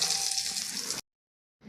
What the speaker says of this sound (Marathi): अगदी छान अशी ही फोडणी तयार होते आणि लगेचच आपण यावर ही ओतून घेणार आहे